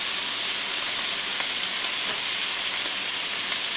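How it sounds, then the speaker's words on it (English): Bacon frying in a hot pan, a steady close crackling sizzle with faint pops throughout and no voices. "Like, the world is happy because you're making bacon."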